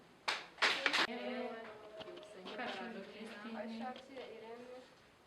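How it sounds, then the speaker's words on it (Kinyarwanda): Wedding guests give a short burst of clapping near the start. A voice follows and keeps talking until the end, with only faint background sound beneath it. "Nabahaye amashyi."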